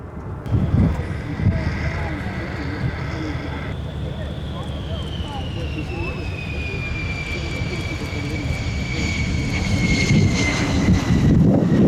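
An aircraft on approach to land at the Farnborough airshow produces a loud, steady engine roar with a whining tone sliding downward, and a commentator talks over it.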